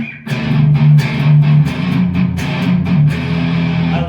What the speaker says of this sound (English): A fuzz with a feedback looper.